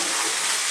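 Italian beef stew stirred in a pot, a brief steady sizzling, scraping hiss, close and moderately loud, with no voices.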